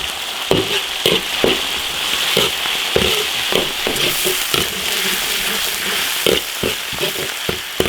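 A lump of hot pot base sizzles loudly as it is stir-fried in an iron wok, with a constant frying hiss broken by repeated sharp spatula scrapes and clacks against the metal.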